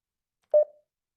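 A single short telephone keypad DTMF tone, clear and isolated in silence, from an outbound call being dialed in a Webex contact-center setup.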